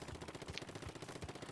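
A splatling weapon in the Splatoon video game fires a rapid burst of bullets, a quick rattling stream of shots at low volume over its short length.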